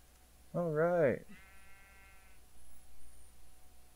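A single loud sheep bleat, wavering and nasal, sounds in a survival video game, followed by a fainter thin tone and quiet background.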